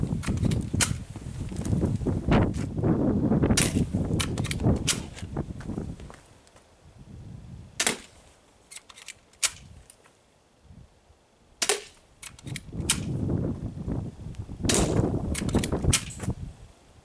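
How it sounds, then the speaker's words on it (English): A Socom airsoft pistol fires at targets outdoors, sharp snapping shots ringing out singly and in quick bursts, with scuffing and movement noise between them and no clear talk. "Today, I'll be doing a target practice by using the Socom pistol."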